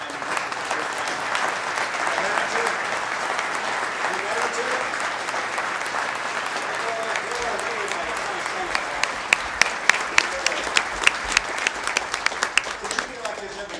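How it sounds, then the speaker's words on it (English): Audience applause for veterans at a gathering, sustained crowd clapping for over ten seconds with talk mixed underneath, turning into sharper, more distinct individual claps toward the end. "And give a round of applause."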